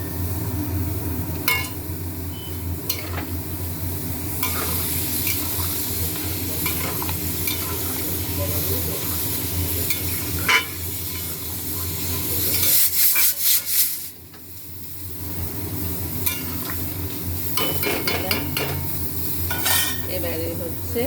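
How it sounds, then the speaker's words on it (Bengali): Hot water is poured into a pan of well-fried spices for a potato and dhoka curry, with steady sizzling and spoon stirring scraping the pan, and a brief hiss and dip partway through. "এবারে গরম জল দিচ্ছি।"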